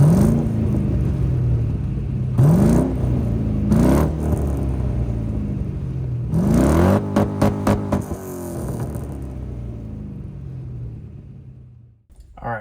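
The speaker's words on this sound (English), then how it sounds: "This is what it sounds like with stock manifolds through some MagnaFlow mufflers." A Ford F100 truck with stock exhaust manifolds and MagnaFlow mufflers, revved several times in close, loud bursts, each climbing and falling, then a quick series of sharp blips before settling into a low idle rumble.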